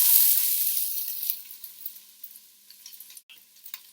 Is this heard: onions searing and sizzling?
yes